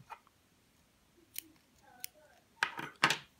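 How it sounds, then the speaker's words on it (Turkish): Scissors snip through crochet yarn on a handmade bootie, giving two sharp close cuts near the end after a few soft handling taps in a quiet room. "İpi buradan kesiyorum."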